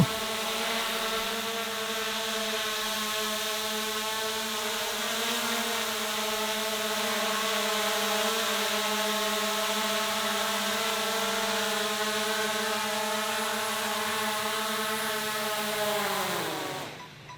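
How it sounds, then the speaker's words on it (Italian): An Antigravity A1 drone comes in to land, its rotors giving a steady, loud whine with stacked harmonic tones that slowly dip in pitch before cutting off abruptly at the very end. "Ed ecco il drone in atterraggio."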